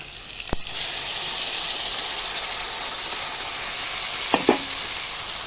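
Onion and tomato fry in a pan for a Katla fish curry, a steady, close sizzle throughout, broken by a sharp clink near the start and a couple of utensil knocks near the end.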